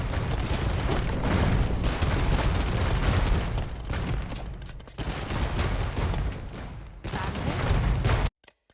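Bombard cannons and hand cannoneers fire in a strategy video game battle, a dense, continuous barrage of booming shots and crackling gunfire that stays loud throughout before cutting off abruptly near the end.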